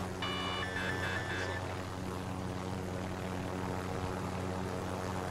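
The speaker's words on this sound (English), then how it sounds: "I got a helicopter right here, pal." Helicopter in the battle royale game Call of Duty: Warzone, a steady droning rotor and engine hum running throughout, with a brief high chiming tone near the start.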